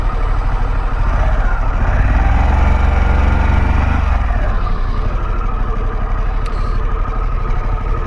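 A 2022 Harley-Davidson Pan America motorcycle ridden on roads around Raleigh, North Carolina, its engine a steady, loud rumble with rising and falling revs and wind noise throughout.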